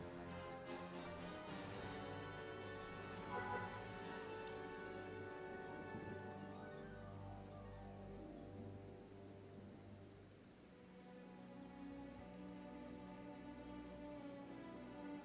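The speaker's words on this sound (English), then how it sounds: "It does acid rain here." Acid rain falls steadily in the video game Kenshi, a continuous soft patter of rain mixed with tonal game music, fairly quiet and with no voices.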